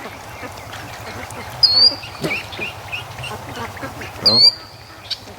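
Two short bursts of duck quacking, one in the middle and one near the end, rise over a steady low rumble around a pond where ducks and geese are being hatched and raised. A voice speaks briefly.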